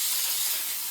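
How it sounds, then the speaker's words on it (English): Baker's Joy baking spray hissing steadily from an aerosol can as it coats the inside of cake pans for a fresh apple cake, one short continuous close spray with no talking. "I've got my Baker's Joy, and I'm going to coat the inside of my pans with it."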